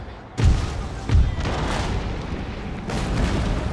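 Artillery cannons fire in an Empire Total War battle, two heavy booms close together followed by a rolling rumble and a third blast, loud and near with no talk.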